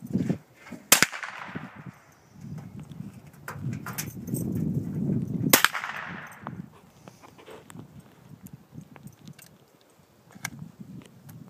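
Two sharp cracks from a Savage .22 caliber bolt-action rifle fired outdoors, well spaced and each ringing briefly into a short tail, with faint background rustle and bird sounds between them.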